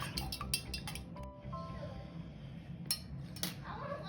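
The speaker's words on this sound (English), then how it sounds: "Now I'm going to stir it up." Melted candle wax being stirred in a container, heard as quick metallic clinks and scraping of a utensil against the vessel in short bursts over a low background hum, close up and without speech.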